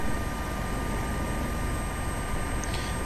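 An AS365 helicopter in flight in the P3Dv4 simulator, a steady, loud rotor and engine drone that holds constant throughout, heard alone without talk.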